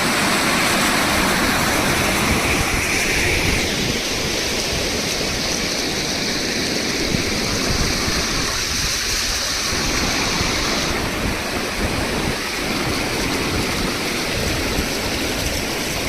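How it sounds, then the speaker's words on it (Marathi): Loud, steady rush of fast-flowing water churning continuously through a brimming irrigation canal, close by and without any voices. "आणि हा पाण्याचा आवाज येतोय पा किती पाणी चाललं आहे"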